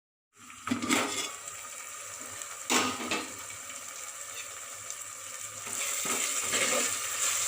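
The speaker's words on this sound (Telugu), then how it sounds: "మెంతికూరని మరొక 3 నిమిషాలు ఫ్రై అవనిద్దాం." Fenugreek leaves fry in a pan with broad beans nearby, a continuous close sizzling hiss punctuated by a few louder scraping stirs, with no one speaking.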